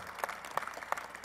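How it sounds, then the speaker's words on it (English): Crowd applause inside Barclays Center arena, a continuous bed of clapping with several distinct louder nearby claps standing out at irregular intervals. "Let's give them a super round of applause."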